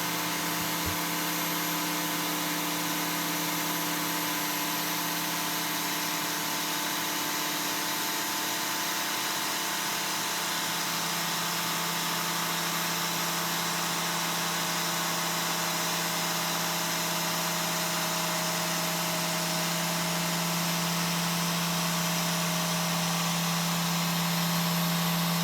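A machine polisher runs steadily at mid-speed with a ceramic alumina abrasive cutting compound on a panel, a constant droning whine with a faint rhythmic pulse, unchanged for the whole stretch and free of talk.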